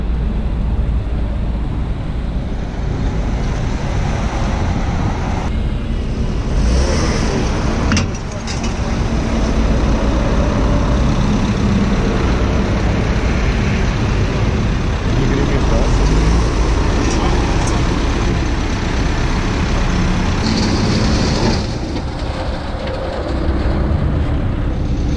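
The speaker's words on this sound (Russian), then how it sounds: "нас на эвакуаторе везут" Steady, loud road rumble from inside a tow truck carrying a Subaru along a highway toward Crimea, continuous engine and tyre noise with a few brief dips, voices talking over it throughout.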